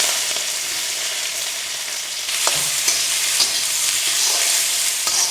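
Onions fry in oil with turmeric, green chilies and curry leaves in an iron kadai for fry piece biryani, a loud, continuous sizzle with occasional spatula scrapes and stirring knocks, no talking.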